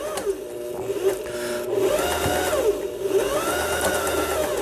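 Lion 419S sewing machine running steadily through a triple zigzag stitch, a continuous mechanical whir with rhythmic needle clatter, close and fairly loud, with no talking.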